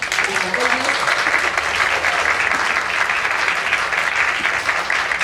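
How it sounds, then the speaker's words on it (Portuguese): Audience at a literature lecture bursts into sustained applause, many hands clapping steadily and evenly for several seconds with some voices mixed in. "Acho que ela merece uma salva de palmas."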